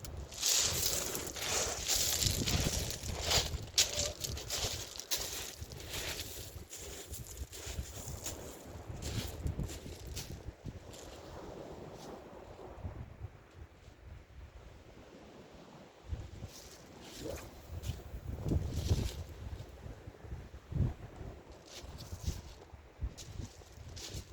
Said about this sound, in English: It's got quite a bit of wind today